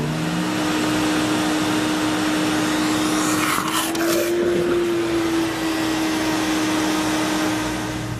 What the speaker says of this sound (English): The Sirena will also function as a wet pickup vac.